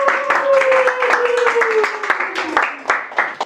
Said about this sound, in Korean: 박수로 한번 안녕할까요?